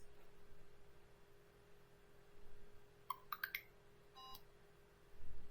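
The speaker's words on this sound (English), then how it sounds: "it made a little beep sound" A short series of faint electronic beeps from a LEGO Mindstorms 51515 hub, four quick rising tones and then one more, over a quiet background hum.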